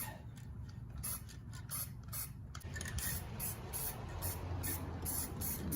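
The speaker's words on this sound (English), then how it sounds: "your cheap, regular black spray paint" Short bursts of black aerosol spray paint hissing onto a brake caliper, repeated in quick pulses, fairly close, over a low background rumble.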